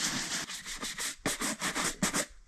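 A cloth or brush buffs polish on a leather walking boot, giving close, rhythmic rubbing strokes in quick bursts with short pauses between them.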